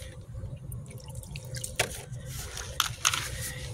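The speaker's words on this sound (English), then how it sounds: "Well, I guess we'll just pour soapy water on it." Soapy water poured over a car tire's valve stem, giving soft trickling and dripping with a few small splashy drips, close up and fairly quiet.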